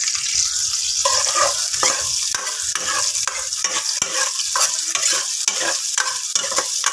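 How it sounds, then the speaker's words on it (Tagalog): Onion and garlic sauté in a pan for Filipino beef kaldereta, a steady close sizzle with repeated scraping stirs roughly every half second, with no talk over it. "ginisa natin ang ating sibuyas at bawang para sa ating kalderetang baka"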